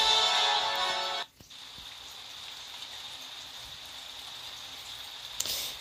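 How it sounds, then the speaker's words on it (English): Rain falling in the Modern WarShips mobile naval battle game, a steady hiss that starts loud, drops sharply after about a second to a softer, even patter, then swells briefly near the end. "it's raining, it's dark out in this map here"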